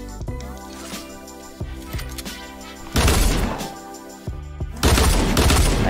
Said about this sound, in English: Oh, it's the sniper shotgun.